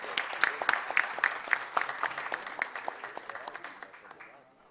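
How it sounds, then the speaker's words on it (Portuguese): A formal legislative committee session breaks into applause welcoming the president of the Brazilian Bar Association, a moderate burst of clapping from a seated audience that swells briefly and then fades away. "Eu peço que seja recebido com uma salva de palmas o presidente da Ordem dos Advogados do Brasil."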